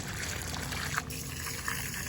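A short, steady pour of water onto potted garden plants, an even close-up trickle with a couple of small splashes.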